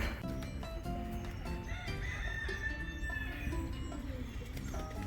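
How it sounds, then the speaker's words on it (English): Ducks at a small city-park mini zoo in Budapest, calling and squawking almost without a break through a busy mix of bird noise, fairly close by. "You got a bunch of ducks here."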